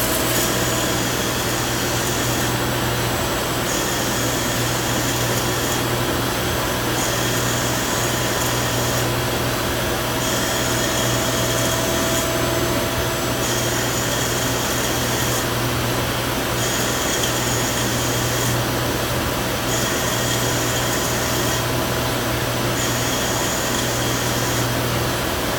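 A Yang metal lathe turns a metal part for a gas or oil tank cap, giving a loud, unbroken whirring drone with a faint regular pulse for the whole stretch, with no talking.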